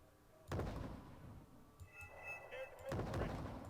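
A Bradley vehicle fires at a Shrezette in the video game Wargame Red Dragon, with two heavy booming shots about two seconds apart and softer battle noise and faint tones between them.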